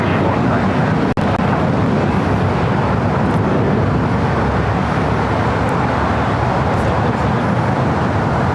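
An SAS Airbus A350-900 arriving at LAX from Copenhagen, a steady broadband roar of jet engines holding at constant loudness throughout, with a brief sharp click early on.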